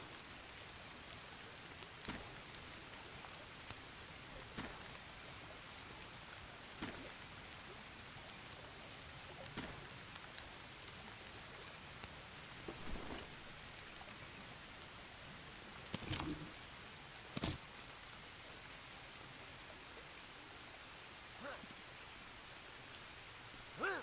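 Soft, steady rain patters continuously in the game Green Hell, with scattered louder drops and occasional sharper taps punctuating the quiet hiss.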